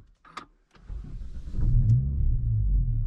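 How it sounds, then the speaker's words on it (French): A couple of faint clicks, then a Renault Megane 4 RS Trophy engine cranks and catches, settling into a steady low rumble close by. "Je vais directement allumer donc le moteur"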